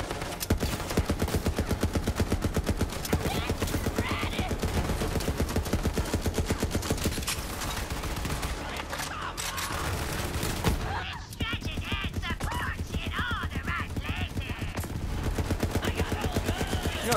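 Dense, continuous video-game gunfire from Borderlands 3, with shotgun blasts mixed into rapid repeated shots under layered combat effects, loud and sustained with a short break near the middle.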